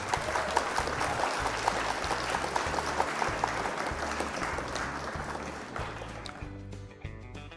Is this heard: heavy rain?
no